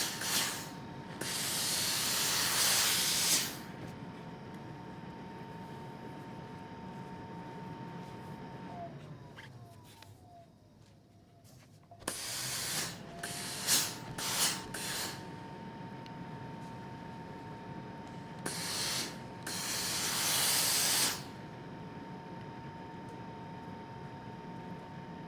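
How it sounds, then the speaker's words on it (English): A steam iron pressing a quilt seam flat lets out several loud bursts of hissing steam, each lasting a few seconds, separated by quieter stretches with faint handling clicks and a soft background hum. "So I'm going to iron my seam flat, set the seam."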